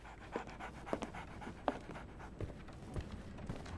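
Dog panting in Sherlock Holmes The Awakened, quick breathy huffs with soft scuffing, fairly quiet and close, no talking.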